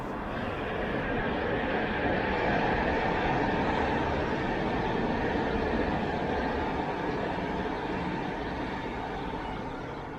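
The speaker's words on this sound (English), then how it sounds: "Here's one of the legacy trains headed inbound toward SFO, just south of the Walnut Creek station." A legacy BART commuter train passes near Walnut Creek station with a loud, continuous roar and rumble of wheels on track, sustained and close throughout.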